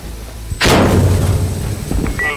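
A frag grenade goes off in the Insurgency Sandstorm zombies mode, a sudden loud thumping blast after a brief quiet lead-in, with the rumble trailing off and faint game noise afterward.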